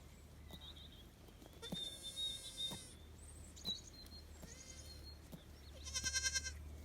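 Young goat kids bleat in fresh air on a farm, with several thin, wavering cries at moderate distance over a low steady rumble and a few faint bird chirps, no talk.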